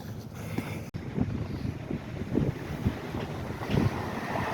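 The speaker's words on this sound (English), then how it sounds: "Can really notice the wind picking up as we get closer to the lake." Strong gale wind near a lake buffets the microphone in gusty, rumbling bursts, with a steady rushing roar underneath and no voices.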